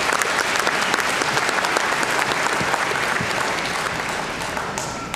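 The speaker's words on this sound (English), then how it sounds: "Please join me in giving him a round of applause." At a South Central College commencement ceremony, the audience gives the MC a round of applause. It is a dense, loud, continuous wash of many hands clapping in a large hall that holds steady and then begins to taper.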